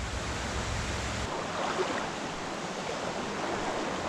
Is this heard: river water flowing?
yes